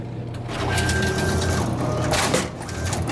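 A soda vending machine with newly replaced pivot ends vends a drink, a loud close mechanical whir and rattle that rises, holds for about two seconds, then ends in a clunk.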